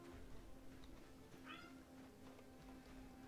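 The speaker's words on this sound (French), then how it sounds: "Oui mon chat." A cat lets out a single short, faint meow partway through, almost lost in a steady background hum.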